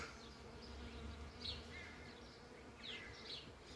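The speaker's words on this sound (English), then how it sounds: "you can actually see a fair few bees" Bees buzzing around flowering lime trees in a garden yard, a soft continuous hum with a few brief closer passes, faint birdsong in the background.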